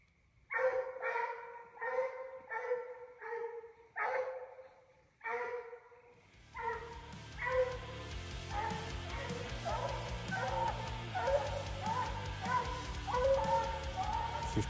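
Coon hounds bay and bark during a summer coon hunt. Several rhythmic barks come first and are fairly clear, then a denser chorus of baying follows, farther off under a steady background rumble.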